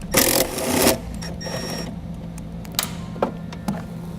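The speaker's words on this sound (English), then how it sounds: "We can now remove the bolt located right next to where we poked our wiring through using a 10mm socket." A ratchet with a 10mm socket removes a bolt on a 2013 Acura MDX, giving a loud burst of rapid clicking and then a few softer, separate ticks near the tool.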